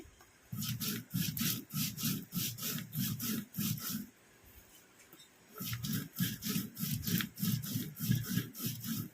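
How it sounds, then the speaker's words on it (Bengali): Roasted spices ground on a shil stone, a steady back-and-forth scraping rub in close, regular strokes, pausing briefly midway before resuming at the same rhythm. "ভেজে রাখা মশলাটা শিলে বেটে নিচ্ছি।"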